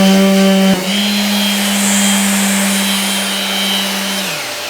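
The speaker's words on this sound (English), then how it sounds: "I'm actually going to do it now with the RTS in this corner" A Festool RTS 400 compact orbital sander runs steadily up into the corner of a wooden workpiece, a loud, even motor whine after a brief start-up, holding for a few seconds before spinning down at the end.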